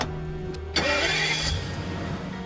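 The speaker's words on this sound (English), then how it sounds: "It allows you to fire up the engine from a safe and sound 100 metres away." An armoured car's engine is started remotely: a brief quiet idle-hum, a sharp crank, then the engine catches and settles into a steady running rumble nearby.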